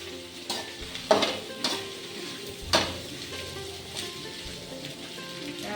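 Vegetables are stirred and fried in a pan at home: a soft sizzle runs underneath while a few sharp scraping strokes of the spatula stand out, close and unhurried, with no talking.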